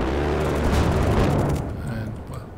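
Cannons firing on a spaceship in Kerbal Space Program produce loud, booming blasts that fill the first second and a half and then fade away.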